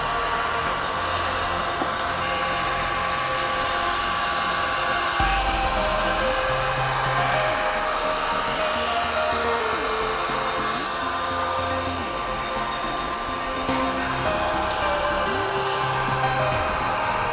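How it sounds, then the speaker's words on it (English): A heat gun blows a constant loud whooshing roar close by while heating a Porsche car door panel to seat a speaker magnet, steady throughout with no talk. "So what that involves is a heat gun"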